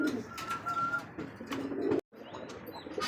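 Pigeons, including Danish and racer breeds kept for sale, coo in soft, repeated throaty calls nearby, broken by a brief silence.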